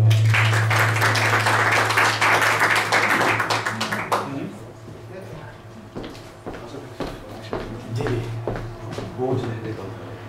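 Audience applause for a poet at an Urdu poetry and ghazal gathering, a dense burst of clapping that fades after about four seconds, leaving scattered claps and a low steady hum.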